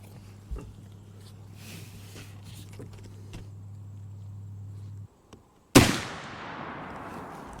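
A budget muzzleloader rifle fires a single shot while being sighted in with a scope, a loud sharp blast near the end followed by a long decaying roar, with a steady low hum beforehand.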